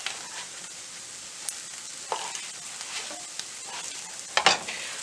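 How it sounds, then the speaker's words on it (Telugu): Bread slices shallow frying in a pan for double ka meetha, a steady soft sizzle with a few sharper crackles and pops, close and fairly quiet, with no voices. "నేను జస్ట్ ఇది షాలో ఫ్రై చేస్తున్నాను."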